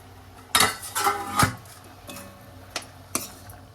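A metal lid lifted off a cooking pot of wild kurdu greens being steam-cooked over low gas in a home kitchen, giving a few sharp clanks and scrapes of metal against metal, close and clear with no talking.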